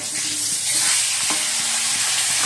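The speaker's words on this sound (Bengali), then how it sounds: "এই যে বন্ধুরা, মাছ ভাজা বসিয়ে দিয়েছি" Amudi fish frying in a pan for a fish curry, a steady close, loud sizzle with crackling hiss throughout and a few faint stirring knocks, no talking.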